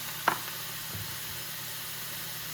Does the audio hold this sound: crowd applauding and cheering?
no